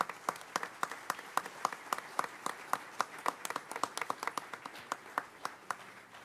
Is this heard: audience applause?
yes